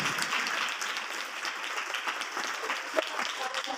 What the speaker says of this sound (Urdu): زوردار تالیاں اس کلام کے لیے۔